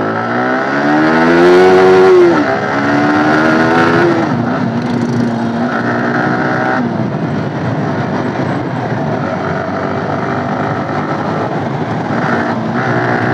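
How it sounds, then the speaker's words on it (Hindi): Motorcycle engine revving hard as the bike is ridden fast, a loud close rising whine that climbs in pitch, drops at a gear shift and holds a steady high drone, with no talk over it. "थोड़ा सा बाइक को भी भगाया जाए, आज बहुत दिन से भगाया नहीं है बाइक को अच्छा से"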